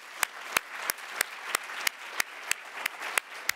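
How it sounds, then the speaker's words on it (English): A graduate research competition audience claps at an awards event, heard as a series of about a dozen sharp, evenly spaced claps, steady and clear with no talking. "so we should give them a round of applause"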